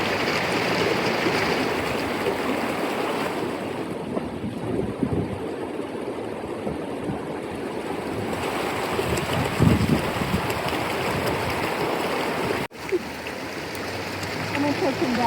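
Moving water at Eagle Nest, New Mexico, a steady rushing flow heard outdoors with gusty wind buffeting the microphone, ending in a brief cut before the flow resumes.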